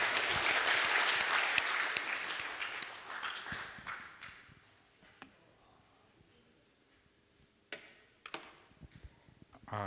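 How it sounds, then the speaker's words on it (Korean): Church congregation applauding during a Sunday worship service, a dense, loud burst of many hands clapping that fades over about four seconds, followed by scattered faint claps and small knocks in a quiet room. "우리 한 번 더 박수를 해야겠습니다."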